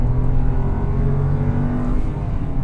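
A Renault Kiger's 1.0-litre non-turbo three-cylinder engine revs hard and steadily near 6000 RPM, with a loud, continuous buzzy drone that holds without a break.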